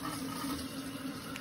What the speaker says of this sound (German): Zuerst füllen wir das Wasser in den Wasserkocher und erhitzen es.